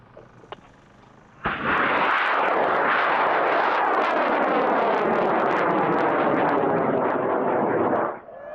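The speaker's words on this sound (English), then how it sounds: "He flew a big, awesome 24-inch rocket on an O motor at Balls" A 24-inch high-power rocket lifts off on an O motor with a sudden loud, sustained roaring burn lasting about seven seconds before cutting off abruptly, heard alone with no talk.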